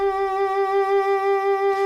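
A single sustained horn note from the Mojo 2 virtual instrument library is played with real vibrato, steady and clear with a gentle wavering pulse. It is heard alone and cuts off just before two seconds.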